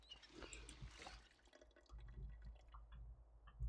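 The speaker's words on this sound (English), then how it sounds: "Fill both my flask and the water bucket." Faint water trickling and dripping as a flask and bucket are filled in Project Zomboid, soft intermittent splashes with low rumble underneath, quiet and close.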